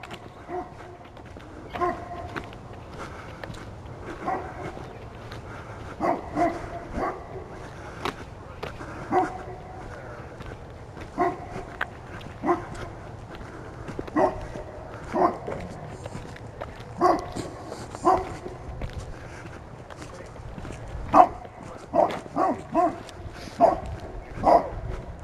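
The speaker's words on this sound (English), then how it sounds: "When you bark, you get to echo," Outdoors in Griesbach, a dog barks repeatedly in scattered single woofs that echo, moderately loud over a low background, with occasional footsteps.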